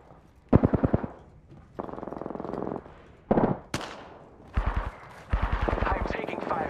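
Bursts of automatic weapon fire in the Apex Legends battle royale game, several rapid rattling volleys separated by short gaps, fairly close and loud.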